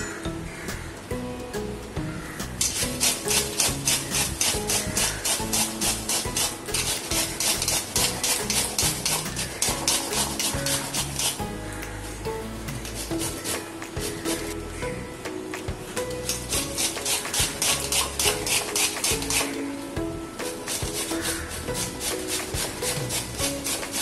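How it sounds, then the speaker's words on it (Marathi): Pumpkin grated by hand for puris: a continuous, close scraping rasp with a rhythmic back-and-forth stroke pattern and brief pauses, heard without talking. "आता आपण हा किसून घेऊया।"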